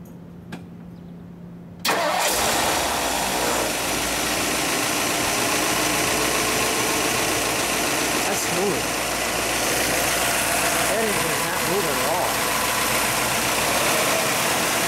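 A 1960 Edsel Ranger convertible's engine cranks and catches with a sudden roar, then settles into a loud, steady idle with slight rises and falls.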